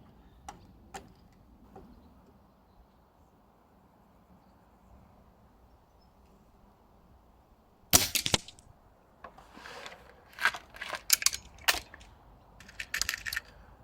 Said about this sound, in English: Remember, I'm shooting at 25 meters today.